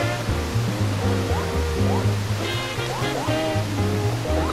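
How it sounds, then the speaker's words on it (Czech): Steady rushing waterfall ambience from the Super Mario 3D World stage on Wii U, a continuous broad wash of falling water under cheerful game music with melodic notes and chimes, with no talk over it. "Já jsem říkal, že se mi nelíbí tento vodopád."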